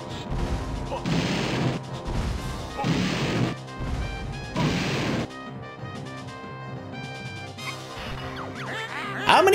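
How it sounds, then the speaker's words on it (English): Repeated heavy booming blasts of mortar cannon bombs in the video game Banjo-Tooie, four big bursts over a steady musical backdrop, loud and close. "Bring out the other mortar cannon! Double bombs away!"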